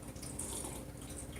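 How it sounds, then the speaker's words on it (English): Hot tap water running steadily into a blender cup as it is rinsed under a faucet, a continuous close hiss and splash with no talking. "all I got to do is just rinse this off under the hot water"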